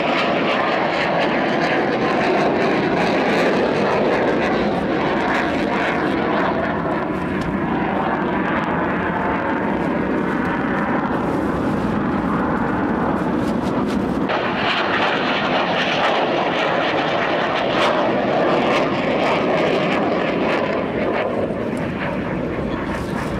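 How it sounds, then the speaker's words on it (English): Vintage aircraft at the 2014 Arnhem commemoration with the Battle of Britain Memorial Flight roar loudly overhead, a sustained droning engine sound that swells and shifts in pitch as the planes pass. "Now we really are going to see some airplanes."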